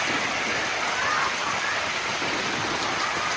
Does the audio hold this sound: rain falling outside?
yes